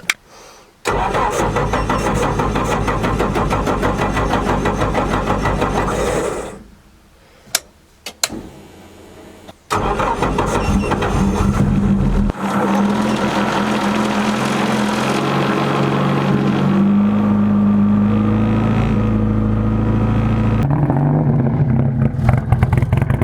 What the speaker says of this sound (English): Alrighty, first start since we unloaded it off the trailer.